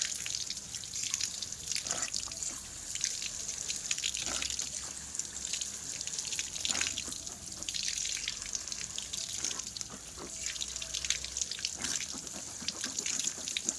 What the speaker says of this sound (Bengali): এটা মুখটা ধুয়ে নাও, জাস্ট মুখটা ধুও